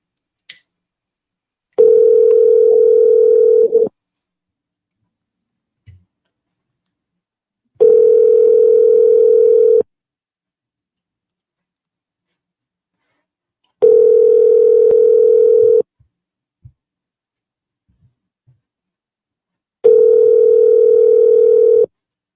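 A Google Voice call rings out with four identical steady electronic tones, each about two seconds long and spaced evenly by silent gaps of about four seconds, loud and clear with no talking.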